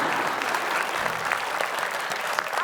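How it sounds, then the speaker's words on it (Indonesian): An audience claps for team A and team B on a comedy show, a dense, continuous patter of applause that holds at an even level throughout. "Tepuk tangan untuk tim A dan tim B."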